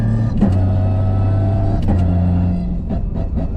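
A 1JZ VVTi engine in an IS300 street car with a Samsonas six-speed sequential gearbox revs hard against a throttle cut, holding a steady droning tone broken by sharp, stuttering cuts, loud and close.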